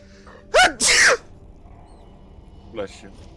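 One person sneezes loudly and close in a quick two-part burst, and a short voice follows a moment later.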